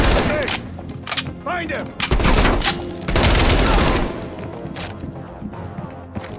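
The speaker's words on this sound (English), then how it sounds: "I think I shot by mistake." Gunfire in the video game Call of Duty: Black Ops Cold War, loud bursts of shots and booming blasts in a busy battle mix, with a voice speaking briefly over it.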